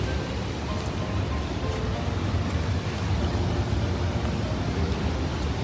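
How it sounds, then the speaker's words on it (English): The waterfall at Paterson, New Jersey, gives a steady, even rush of falling water that fills the background at moderate distance without pause, with no voices. "I'm going down to see the waterfall."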